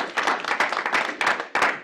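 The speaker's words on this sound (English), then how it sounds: "so let's give him a round of applause." Applause from a meeting audience, a dense patter of many hands clapping steadily for nearly two seconds with brief surges, fairly close and loud, with no talking over it.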